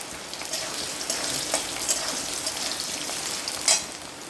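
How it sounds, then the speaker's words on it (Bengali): A single sliced potato frying in a pan, giving a continuous crackling sizzle with small pops and one louder spatter near the end. "আলুটা এদিকে দেখো লাল লাল করে ভাজা হয়ে গেছে।"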